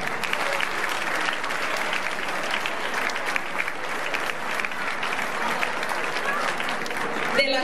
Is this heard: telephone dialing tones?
no